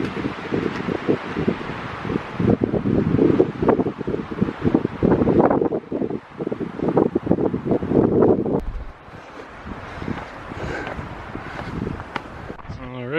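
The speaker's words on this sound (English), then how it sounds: "But this wind is quite chilly." Strong chilly wind gusting across a mountain hiking trail in a state park, roaring and buffeting the microphone with rustling, steady for most of the stretch before easing off, with someone speaking through it.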